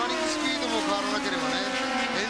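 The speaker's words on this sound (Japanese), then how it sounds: "今インに入りましてスリップストリームから今トップを奪い返して1コーナーに入ります" Group A touring cars racing at speed at Fuji in 1991, including a Corolla Levin battle into the first corner, with engine notes rising and falling continuously under a commentator's talk.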